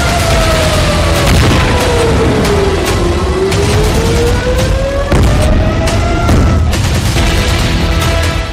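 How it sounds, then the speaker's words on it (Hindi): Rumbling blasts and booms from Iranian missile strikes on Israel, a dense continuous roar with repeated heavy impacts and a rising and falling whine running through it, loud throughout. "1 अक्टूबर 2024 ईरान ने इजराइल पर दागी 200 मिसाइल"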